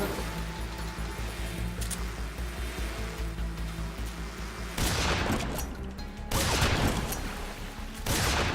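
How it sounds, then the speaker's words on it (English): Grenade blasts and gunfire in the stealth action game Metal Gear Solid 3: Snake Eater, a dense rumbling fusillade that breaks into several loud crashing explosions toward the end, with no talk over it. "Take this! Grenade!"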